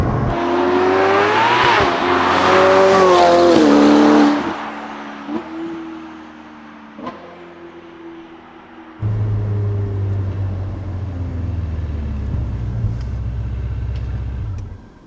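A Novitec-tuned Ferrari F8 Tributo supercar accelerates hard and loud, its engine note climbing through rising revs with quick upshifts, then settling into a deep, steady rumble.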